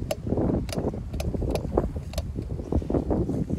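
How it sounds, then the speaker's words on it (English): Wind blows outdoors on a rural road, a steady rough rumble of gusts buffeting the microphone, loud and close with no other clear sounds. "It is windy out here."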